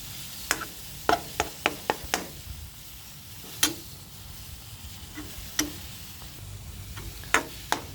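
Finely chopped carp is dry stir-fried in a pan. Sharp spatula scrapes and taps land at an irregular pace over a quiet low background, each one brief and close.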